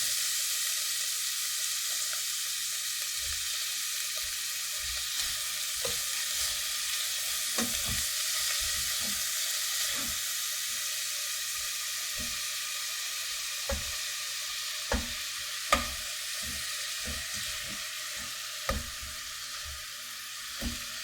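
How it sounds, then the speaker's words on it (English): Steak strips sizzle loudly in a hot pan for chili, a constant bright hiss broken by scattered knocks and scrapes of a utensil against the pan. No one speaks. "let's go ahead and add some of the steak strips"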